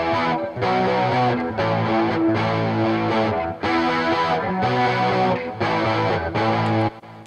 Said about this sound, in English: I have the recording with the insert effect from the distortion applied, but on top of that, I've now sent that signal, that audio recording, to the send effect, which is the chorus